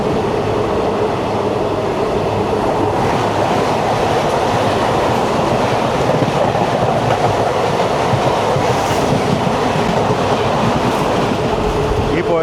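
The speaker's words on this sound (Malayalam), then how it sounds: "ഈ പോയത് ഷൊർണൂർ എറണാകുളം മെമു." A Shoranur–Ernakulam MEMU electric multiple unit passes close by in early-morning rain, a loud, steady roar of wheels and carriages with faint clattering rhythm, sustained throughout with no letup.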